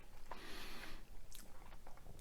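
Close, crunchy chewing of air fryer chicken parmesan, a short burst of bites and mastication noises with no talking.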